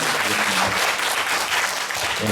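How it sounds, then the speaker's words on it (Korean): Students at a church school joint retreat lecture applaud together, a dense steady wash of hand clapping that holds loud and even throughout with no break. "다시 한번 학생 박수"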